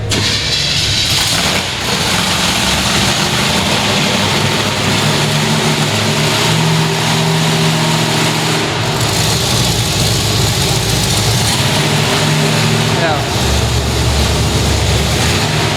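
Race cars idle and rumble loudly before the Wadena Grand Slam, several engines throbbing close by at a steady, heavy level throughout, with no talk over them.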